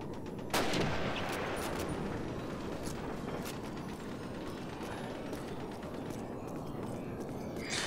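Gunfire in the Call of Duty video game, with a loud close shot early on followed by a dense, continuous crackle of distant shots and battle noise that runs to the end.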